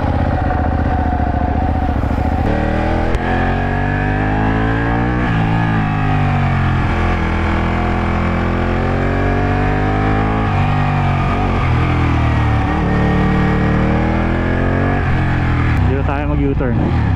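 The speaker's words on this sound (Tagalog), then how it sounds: "So this is 899 Panigale, naka L-twin engine." A Ducati 899 Panigale with an L-twin engine is ridden with a steady, loud, close engine drone. The pitch sweeps up and down gently as the rider works the throttle, and the sound carries on without a break.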